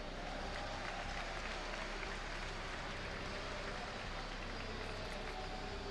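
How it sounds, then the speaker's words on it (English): Dense, sustained applause from an audience at an IEM Gamescom StarCraft esports event, a steady wash of clapping at moderate distance with a faint crowd murmur beneath. "Ladies and gentlemen, give it up for Roxkit Slivko."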